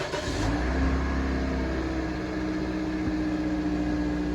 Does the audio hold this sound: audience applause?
no